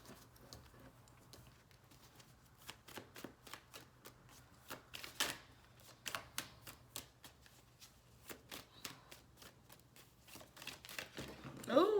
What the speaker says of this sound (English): I'm going to keep shuffling just to make sure